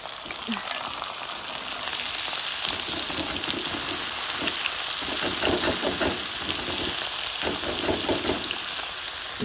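Onions and peas sizzle and crackle steadily in hot oil, a dense close frying hiss with occasional stirring scrapes and no talk.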